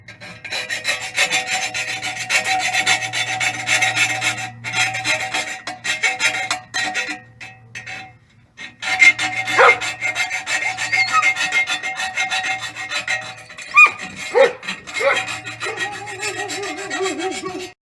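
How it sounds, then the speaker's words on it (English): Hand filing metal on a 1998 Pontiac Sunfire exhaust before a new muffler goes on, a steady rasping back-and-forth scrape repeated in long strokes, close and fairly loud, with a few brief clinks near the end. "now I gotta file and clean up this"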